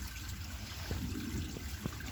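Creek water trickles softly in cold weather, a thin continuous wash broken by a few small splashy drips, heard alone.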